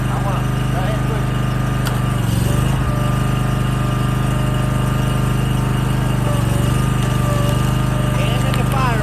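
A gasoline engine-driven firewood splitter runs steadily near at hand, a constant droning hum splitting a big red oak, with a brief strained surge partway through as a log is pushed; people talk over it.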